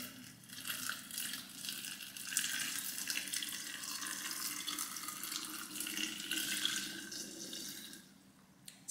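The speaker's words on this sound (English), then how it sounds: "Now our sugary water goes in." Sugary water pours steadily over chopped apples in a container for homemade vinegar, a continuous close splashing and trickling stream with no talk.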